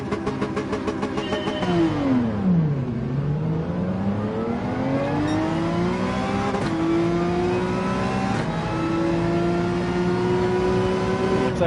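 A race car launches off the line in Gran Turismo 7. The engine roars loud and close, drops sharply on the first shift, then climbs steadily through several quick upshifts, each marked by a short break in pitch.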